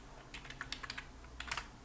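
Short bursts of computer keyboard keystrokes, a quick sequence of light clicks with a slightly louder cluster near the end, close and quiet with no talking.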